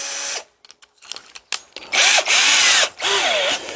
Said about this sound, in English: we're going to get a drill and I'll put a little pilot hole in there